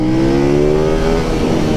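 Loud, close KTM Duke 890 motorcycle engine revving hard with a downshift blipper, its pitch climbing slightly over a sustained roar.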